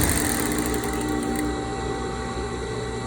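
A sewing machine runs steadily, stitching elastic onto a cloth face mask a quarter inch from the edge, a continuous close whirring hum with fast needle rhythm that barely changes across the clip, with no voices.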